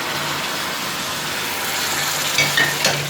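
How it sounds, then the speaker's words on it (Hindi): Pressure-cooked beef hits hot ghee in a karahi and gives a steady, fairly loud sizzle with frying hiss throughout, plus a few stirring scrapes near the end. "ये जो प्रेशर में मैंने गोश्त को गाल के रखा था वो मैं इस कढ़ाई में डाल देती हूँ"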